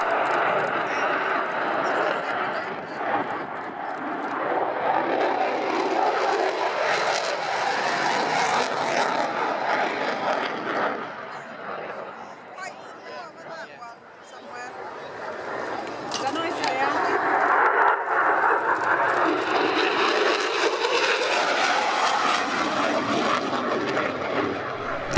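A military jet, an F-35B Lightning, flies past at the Royal International Air Tattoo air show, its broad roaring engine noise swelling loud, fading briefly midway, then surging again as it passes near.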